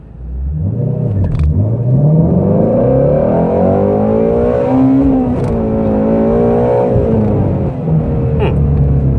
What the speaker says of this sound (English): right now I'm launching very gently